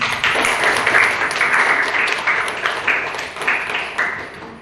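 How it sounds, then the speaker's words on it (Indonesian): Applause and clapping for a man in the audience at a first-aid (P3K) talk, a steady wash of hands lasting several seconds at moderate loudness with faint voices underneath. "Tepuk tangan Bapak ini"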